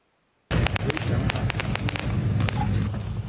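Fireworks go off at the Wuling parking lot on Hehuanshan in Taroko National Park, with rapid crackling pops over a sustained roar while a voice talks over them.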